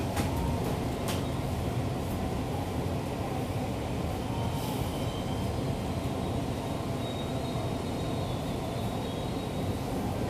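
Inside Juanda railway station in Jakarta, a steady, loud broadband rumble of a train fills the space without pause, with faint higher hiss and squeal on top and no voices.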